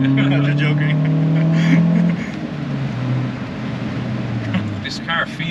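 A tuned 550 hp Audi RS3 is driven at the Nürburgring, its engine note droning close and loud, then dropping in pitch as the car eases off, while people in the cabin talk.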